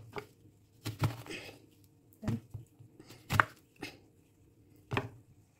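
Boiled ginger is chopped in a food chopper, giving a handful of sharp, irregular chopping bursts with short gaps between them, close and fairly loud with no talking.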